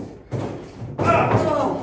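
Two heavy thuds land on a wrestling ring canvas as a wrestler stomps on a downed opponent in a pro wrestling match, each a dull, booming impact with resonant rumble, close and fairly loud.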